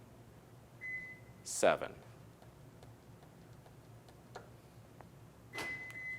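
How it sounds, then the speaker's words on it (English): A Subaru unlocks after PIN code entry, giving a short electronic beep early on and another near the end, over a quiet background with a voice speaking a number. "You'll know it worked because it just unlocked the entire vehicle and beeped at you."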